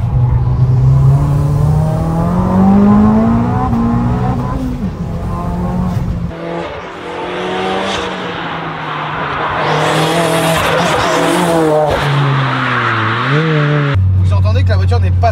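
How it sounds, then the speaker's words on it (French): A Stage 4 tuned Abarth car engine accelerating and revving loudly with rising and falling pitch, gear shifts audible, continuous and close throughout. "Vous entendez que la voiture n'est pas si bruyante que ça."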